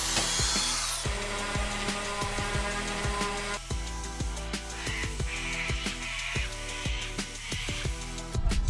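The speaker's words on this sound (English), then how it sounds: "I'm just gonna sand it down a little bit." Hand sanding the rough fiberglass inside a 1964 glass ski boat hull, with a dry scratchy rasp in a steady run of repeated strokes, close and fairly quiet, no talking.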